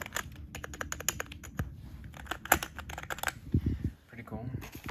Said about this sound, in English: Has the keyboard clicking sound for you ASMR guys and gals.